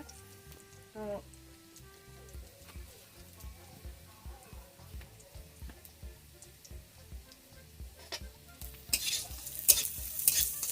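Onions fry in a pan while cooking a mud crab curry, a low crackling sizzle with rhythmic stirring scrapes that grows louder and hissier near the end, a voice speaking briefly early on.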